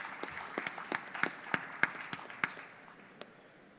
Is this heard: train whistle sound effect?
no